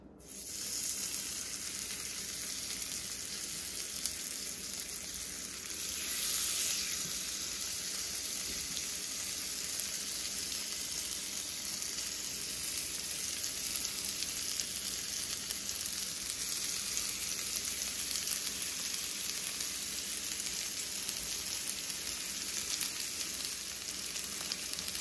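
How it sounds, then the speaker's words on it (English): Lamb chops searing in melted butter and olive oil in a pan, a steady, close, hissing sizzle that holds evenly throughout with no voices. "So I'm going to have it sear on each side for about 3 to 5 minutes."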